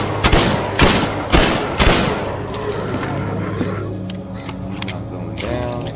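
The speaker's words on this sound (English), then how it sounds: "Shotgun time." Shotgun blasts in the zombie video game Echoes of the Living, four heavy booming shots about half a second apart, then fading into rumbling game ambience and metallic mechanism noises.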